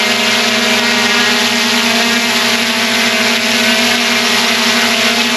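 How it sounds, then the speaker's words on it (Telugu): A DJI drone fitted with new propellers hovers nearby with a loud, steady high-pitched whine and buzzing hum that stays constant throughout. "మనం ఇప్పుడు డ్రోన్ అయితే ఫ్లై చేద్దాం."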